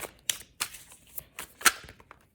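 Tarot cards being shuffled by hand in a handful of quick, separate riffling bursts, close and fairly quiet, with no talking.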